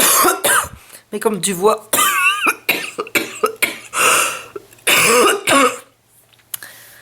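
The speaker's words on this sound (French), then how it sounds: "je tousse à chaque fois que je parle" A woman with a cough talks in French and keeps breaking off into repeated harsh coughs and throat clearing, loud and close, mixed between her phrases.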